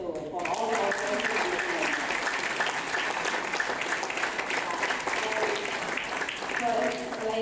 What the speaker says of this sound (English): can you just take a minute to clap your hands for all the organizers